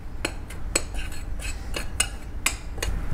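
Seasoning stirred into flour powder in a bowl, with a few sharp clinks of a utensil against the dish at irregular intervals over soft background noise.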